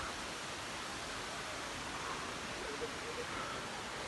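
Hulugan Falls, a waterfall in Laguna, gives off a soft, steady broadband rush of falling water, faint and distant, continuous with no breaks.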